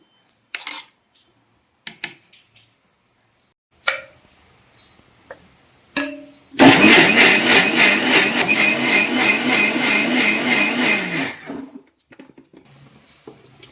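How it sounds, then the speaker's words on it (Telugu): A mixer grinder blends boiled tomato pieces for tomato pickle in a home kitchen, a loud steady whir lasting about five seconds. Scattered clinks of dishes and the jar being handled sound before and after it. "ఇప్పుడు దీన్ని మనం మిక్సీలో వేసుకుందాం"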